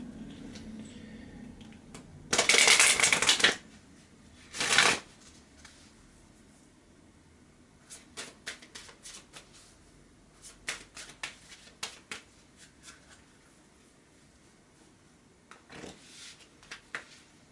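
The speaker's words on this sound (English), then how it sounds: "Let me shuffle now." Tarot cards being shuffled by hand in a quiet room, with two short bursts of riffling followed by scattered soft taps and slides of cards, close and fairly faint.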